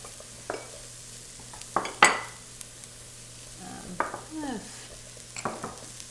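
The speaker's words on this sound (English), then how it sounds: "So we're gonna brown that on all sides" Meat sizzling in a frying pan, with intermittent scrapes and clinks of a utensil stirring and turning it.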